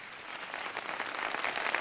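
A studio audience at a televised iftar cooking show claps steadily, a dense patter of hands that grows slightly louder, heard at a distance.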